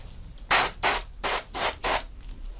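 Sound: spray paint being sprayed onto Infinity miniature model

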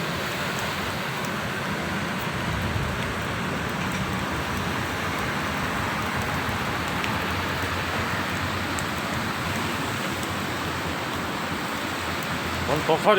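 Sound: rain falling

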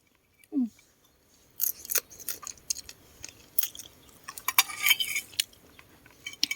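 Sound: cutting food with scissors

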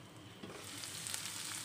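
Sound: okra (bhindi) frying on low flame

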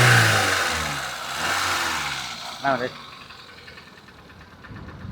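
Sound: car engine running

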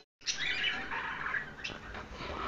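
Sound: birds chirping at a bird market

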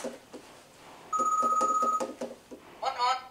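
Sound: toy phone ringing in Rizusta phone mode

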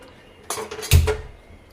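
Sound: kadai (Indian wok) being set on the stove to heat

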